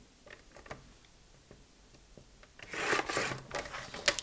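Paper card is scored and creased along fold lines with a bone folder, soft scraping strokes and light ticks that grow into louder, rapid rubbing passes near the end, close and quiet with no talk.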